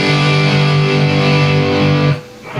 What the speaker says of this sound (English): So that's a pretty good rock distortion on channel 3